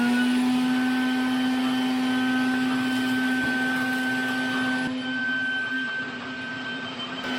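Compressed air blasts steadily into the sealed-combustion burner of a Bradford White 40-gallon gas water heater, a loud, continuous close-up rushing hiss with a steady hum that eases slightly toward the end.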